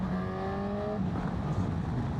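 A Honda CB1000GT motorcycle engine revs hard, a continuous loud roar with a steady rising whine in its upper tones that fades out partway through, carrying on alone without any voices.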